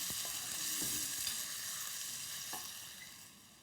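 Lamb and sausage browning in a stew pot give off a steady close sizzle with broad hiss, broken by a few soft clicks and stirring knocks, and no voices.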